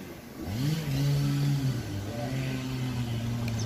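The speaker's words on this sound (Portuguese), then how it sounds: "você pode engrenar o motor e você acelerar" Adapted electric bike motor engaged and accelerating along a flat street, its rising then steady whine climbing in pitch over a few seconds, close and moderately loud with no talking.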